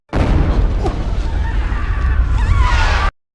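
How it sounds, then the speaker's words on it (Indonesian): Firecrackers explode inside a cave, shaking it and breaking the cave wall: a loud sustained roaring blast with crashing debris and rumble, close and dense for about three seconds. "terdengarlah suara petasan yang membuat gua bergetar dan menghancurkan dinding gua"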